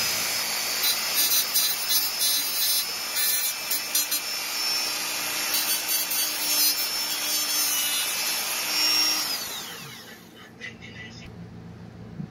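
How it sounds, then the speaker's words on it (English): A rotary tool grinds away the plastic edge of a rectangular hole in an electronics prototype enclosure, giving a steady high whine with rough rubbing that winds down near the end. "so that I can slowly grind few more plastic on the edge"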